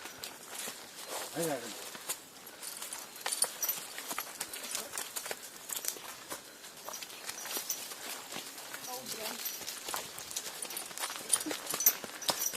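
A horse walks on a mountain ride, its hooves clip-clopping in a steady, faint rhythm beneath people talking in Bulgarian throughout.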